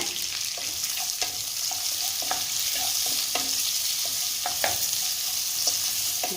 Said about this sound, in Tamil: சேர்த்துட்டு நல்லா இந்த எண்ணெயில் பரட்டி விடுங்க